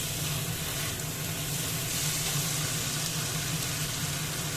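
Potatoes and spices, including Kashmiri chilli powder, being stirred in a hot frying pan, giving a steady close sizzle and frying hiss throughout with faint scraping.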